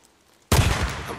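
A burst of gunfire suddenly erupts after a brief quiet moment, loud and continuous, like rapid shots fired in the video game Days Gone during an attack on a Rippers camp.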